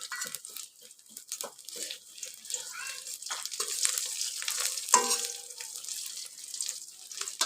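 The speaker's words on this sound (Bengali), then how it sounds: "এবার চুলার হিটগুলো একটু বাড়িয়ে সবগুলো বড়া করে দেবো" Jute leaf fritters made with flour and semolina sizzle in hot oil while being stirred, with soft crackling, scraping and clinks under intermittent quiet talk.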